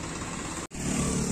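Tractor engine near Surat, Gujarat, heard from on board while hitchhiking: a loud, steady, rough mechanical roar that cuts out for an instant midway, then returns slightly stronger.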